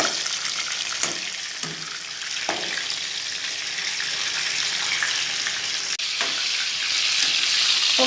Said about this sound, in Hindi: कोफ्ते फ्राई हो रहे हैं, मीडियम आंच से फ्राई करें इनको।